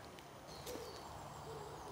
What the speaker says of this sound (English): because Sky, every time an owl hooted, Sky thought it was an alien or a monster